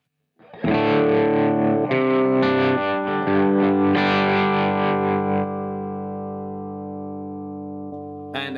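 Electric guitar run through a Kemper with distortion and a morphing delay effect, loud sustained chords with several restrikes, then a long fading tail of repeats before a final short strum.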